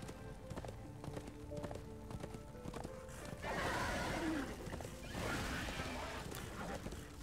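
Horse galloping in the video game Darksiders 2, a steady run of hoofbeats with a whinny, set among game music and effects that swell louder midway through.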